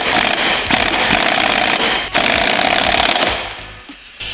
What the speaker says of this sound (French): donc là c'est pareil, on va le serrer au pistolet